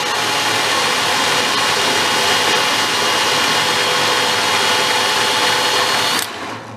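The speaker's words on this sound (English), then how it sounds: "So say if the drill is 600 RPM, and we can count how many that turns." A power drill spins an old Harley golf cart transaxle from a scrap yard, whirring continuously at high speed, close and loud, with a mechanical grinding undertone, then cuts off abruptly near the end.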